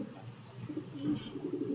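A pigeon gives soft, low cooing close by against a steady faint hiss, with no voices.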